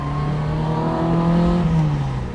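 A 1965 Honda S600, fitted with a motorcycle engine, accelerates with a steady, rising engine drone that stays close and loud throughout, with no voices.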